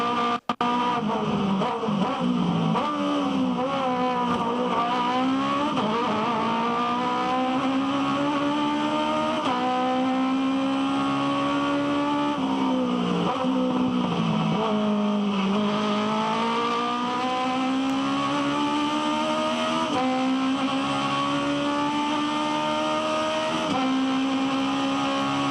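Onboard an Aussie Racing Cars race car lapping the Sydney circuit in 2013, the engine roars loud and close without a break, its pitch climbing and dropping through gear changes and corners for the whole lap.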